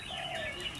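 A caged red-whiskered bulbul sings a short, bright warbling phrase, close and fairly loud, with a faint background hiss.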